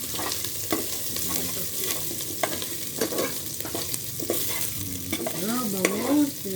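Ginger sizzles in hot oil in a pan for chicken curry while a utensil stirs and scrapes it, close and continuous, with no one speaking.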